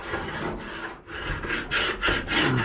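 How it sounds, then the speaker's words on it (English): A putty knife scrapes thick old grease from the hood jamb of a 1970 Buick Wildcat, giving repeated rough rubbing strokes in a steady back-and-forth rhythm, close and moderately loud with no talking. "So I like to come through with either a putty knife"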